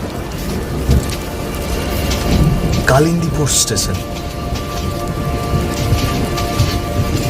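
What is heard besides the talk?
heavy rain and thunderstorm, cartoon sound effect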